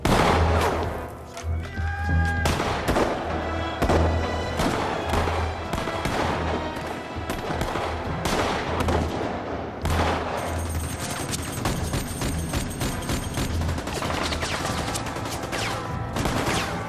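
Machine guns and mountain artillery of the Ottoman resistance fire in dense, loud volleys: rapid bursts of rattling shots mixed with heavy booms and echoing blasts, continuing without pause throughout.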